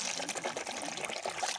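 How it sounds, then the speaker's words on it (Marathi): Water pouring steadily into a bucket, a continuous close splashing rush that stays at an even level throughout. "आपण पाणी भरतो बघा. पाणी तेवढं भरलं बघा."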